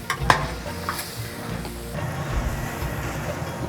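Meat and spice masala for goat curry with chickpea dal being stir-fried in a large batch, a steady close sizzle with scraping stir strokes and a few sharp clanks near the start.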